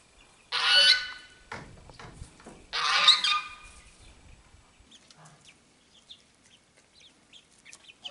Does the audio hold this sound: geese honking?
yes